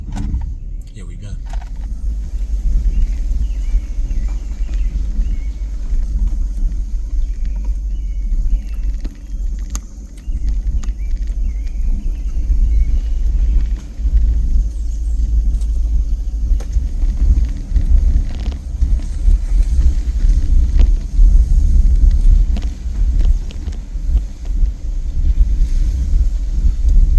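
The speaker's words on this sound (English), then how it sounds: "we're just going to drive around the campsite quickly" A camper van drives slowly around a campsite, with a steady low engine and road rumble and wind buffeting that carry on unbroken throughout.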